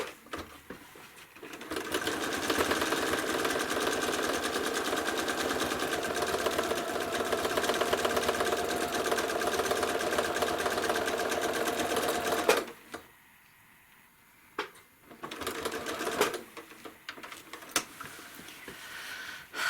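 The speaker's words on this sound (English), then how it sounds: "I'm going to stitch a swirl in there." A sewing machine fitted with a walking foot and a size 100 needle stitches a swirl into a quilt, running in a steady, rapid, close whir for about eleven seconds, then pausing and restarting in short bursts.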